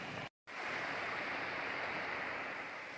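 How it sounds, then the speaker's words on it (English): A small set of waterfalls on Cotting Brook along the Long Trail near Laraway Mountain gives a steady, full rushing roar close by, broken by one brief silent cut, with no voices. "Nice little set of falls coming down."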